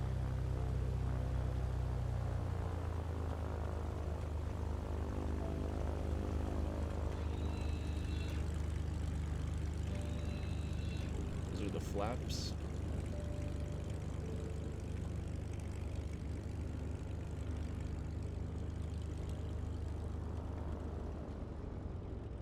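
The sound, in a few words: Lancair propeller aircraft engine run-up in a flight simulator video game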